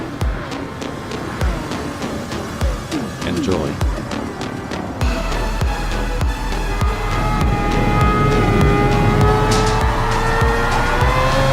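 A race car engine in Gran Turismo 7 roars and revs close and loud, with tyre squeal, over steady music and intermittent talk.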